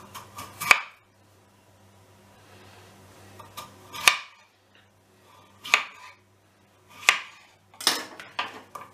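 A knife slices raw potatoes into thin strips about 1–1.5 mm thick for grilling, giving five sharp separate chops spaced a second or more apart, close and clear against a quiet background.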